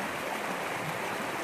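The Little Don River, also called the Porter, flowing along a walking route, a steady broadband rush of moving water, close and continuous with no voices.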